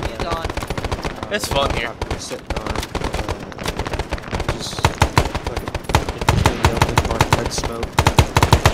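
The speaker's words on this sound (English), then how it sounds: "Hey, stop shooting at me." Dense automatic and single-shot gunfire rattles nonstop in an Arma 3 Vietnam-era military simulation battle, loud and close, while players talk over the shooting.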